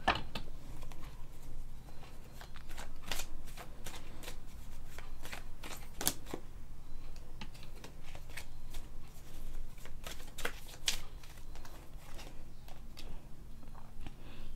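Tarot cards are shuffled by hand in a steady run of soft, rapid riffling flicks and taps, close and fairly quiet, continuing for around fifteen seconds with no talking.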